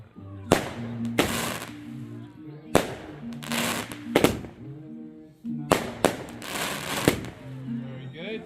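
Bonfire Night fireworks go off in three loud bursts of crackling, popping explosions separated by short pauses, with people talking and reacting nearby in between.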